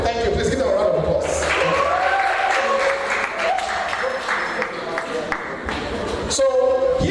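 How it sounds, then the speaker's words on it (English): Seminar audience breaks into sustained applause, a dense continuous patter of many clapping hands filling the room, with voices talking and calling out over it. "Please give them a round of applause."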